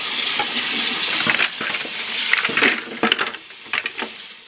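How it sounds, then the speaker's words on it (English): Scrubbed wooden spoons are rinsed under running water, with a loud splashing stream and clattering knocks of wood against each other and the sink, growing more irregular toward the end. "Now we're going to rinse them off."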